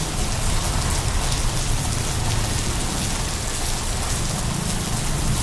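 Steady, dense rain falling during a bike ride near Tambo Crossing on the way to Baclaran Church, a loud continuous hiss of drops on surfaces filling the scene without pause.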